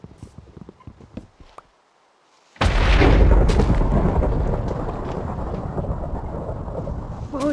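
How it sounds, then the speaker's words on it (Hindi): Rain and a thunderstorm set in within a Minecraft-style block game: after a near-silent pause, a sudden loud roar of heavy rain and rolling thunder bursts in and keeps going, dense and steady to the end. "बरसात शुरू हो गया"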